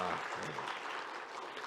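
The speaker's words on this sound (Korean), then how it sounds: "환영합니다 하는 뜨거운 박수로 맞이하겠습니다" Korean church congregation applauding to welcome a visitor during a Sunday service, a continuous soft wash of clapping with a faint voice underneath.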